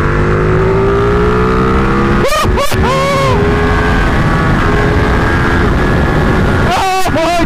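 A Ducati 1299 Panigale motorcycle engine roars loudly and steadily up close, with sharp revving bursts that sweep up in pitch and a few quick blips near the end, under wind noise.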